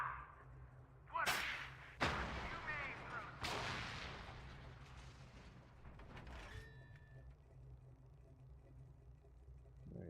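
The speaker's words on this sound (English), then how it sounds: "This isn't even a harpoon, this is like a rocket-propelled grenade." A rocket-propelled grenade launcher fires in a video game, giving a few sharp, whip-like blasts that each decay into a rumbling tail, over a low steady hum with faint voices.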